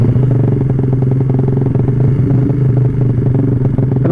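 Suzuki Satria FU motorcycle fitted with an aftermarket racing exhaust, idling with a steady, loud, rapid throbbing pulse close by for the whole stretch, no talk.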